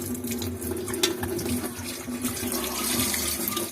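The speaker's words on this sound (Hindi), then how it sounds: "इसको ठंडे पानी से धोएंगे, गर्म पानी से नहीं धोएंगे।" Cold tap water runs steadily over a goat brain being washed by hand, a continuous close splashing stream with slight shifts in tone as the brain is turned under the flow, with no talk.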